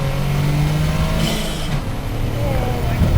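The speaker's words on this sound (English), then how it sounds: "It has an actual tone and raspiness to the motor." Toyota GR Corolla engine revving with a raspy, boosty tone, a steady loud drone that shifts pitch midway, with a person talking over it.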